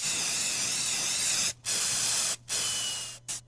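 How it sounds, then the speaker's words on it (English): Paint spray gun hissing as it coats a Christmas tree white, a studio radio sound effect: loud continuous spray bursts broken by four short pauses, with no talking. "Finally got this spray gun working perfect."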